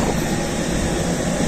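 Steady broadband roar of a passenger airliner's engines and cabin air during boarding for a flight from Azerbaijan to Hungary, a continuous loud wash with no talking.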